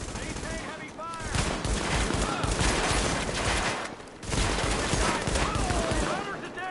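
Heavy sustained gunfire from Tom Clancy's The Division, dense rapid bursts filling the scene with a brief lull midway, mixed with game voices and combat chatter.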